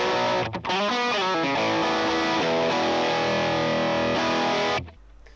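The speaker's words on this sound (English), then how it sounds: "the silver bell stock cabinet in your Helix sounds like this" Distorted electric guitar played through a Line 6 Helix silver bell stock cabinet for a dirty AC30-style tone, with a loud, dense riff of chords and single notes that runs nearly five seconds and then cuts off abruptly, with no talking.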